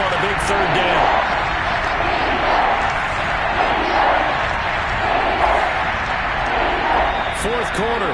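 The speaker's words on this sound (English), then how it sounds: "The crowd getting into it as we come up on a big third down." Stadium crowd at an American football game roaring steadily through a tense late-game third down, a dense continuous wash of cheering with scattered whistles and shouts and no pause.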